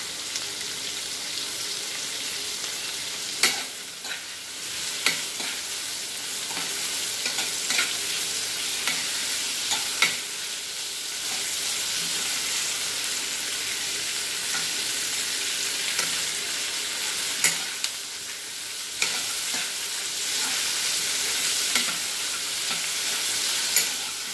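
Almonds and tomatoes frying in a pan for a mango mustard masala curry, a continuous sizzle broken by recurring spoon scrapes and knocks as the mixture is stirred, close and steady, with no voices.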